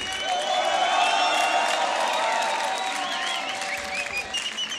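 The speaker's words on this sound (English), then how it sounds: "Big round of applause." A crowd at a Grand Beatbox Loopstation Battle quarter-final applauds and cheers loudly after a round between Jarno Ibarra and Oxbox, with dense continuous clapping, scattered whoops and whistles, and faint voices mixed in.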